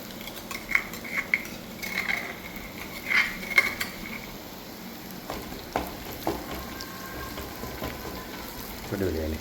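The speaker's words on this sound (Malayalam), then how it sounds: "എന്നിട്ട് രണ്ടാമത് ഇളക്കാം." Crushed red chili mixture being stirred into a pan of frying food, with a spoon clinking against the pan now and then over a low continuous sizzle, and a voice talking faintly in the background.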